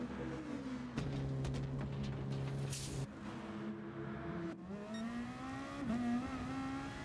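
A race car in Gran Turismo Sport at the Red Bull Ring rolls into the pits, its engine note droning and shifting pitch as it slows and then revs back up, steady and close with no talking.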